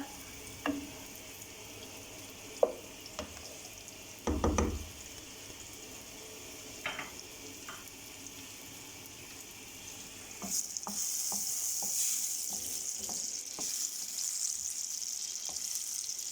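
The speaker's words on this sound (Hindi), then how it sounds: "तड़का हमारा बन रहा है" Oil sizzles and crackles steadily as garlic, red chili and cumin temper for dal, with scattered pops and utensil taps, the frying growing louder and denser toward the end.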